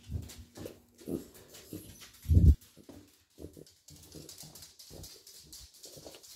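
Dogs whimper and pant for attention at close range, with soft scuffles and one louder thump in quiet surroundings, and no clear speech.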